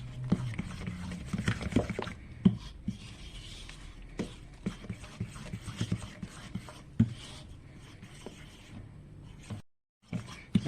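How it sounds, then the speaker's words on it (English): A spoon stirs flour into a homemade cinnamon roll dough mixture, giving repeated soft scraping and rubbing strokes at an uneven rhythm, fairly close, with a brief pause near the end. "keep stirring until all your flour is mixed into that mixture"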